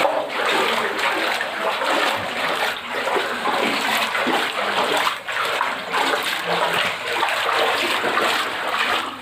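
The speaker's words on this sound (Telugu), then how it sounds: "పైనుంచి ఊరుతున్నాయా నీళ్ళు?" Water gushes and trickles over wet rocks on a hillside at Ravvalakonda, a continuous splashing flow heard up close for several seconds, with a few faint voices underneath.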